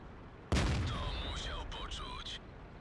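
A Bat.-Châtillon 25 t tank cannon in World of Tanks fires one sudden, loud boom, followed by a fading rumble and a ringing whine, with a voice speaking over it.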